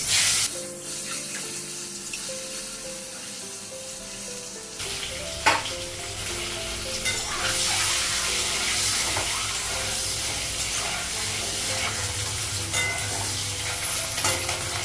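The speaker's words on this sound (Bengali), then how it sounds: "ডিমটা ভাজা হয়ে গেছে" Steady sizzling of eggs frying in a hot pan, continuous and close, with occasional clinks of a utensil and no talking.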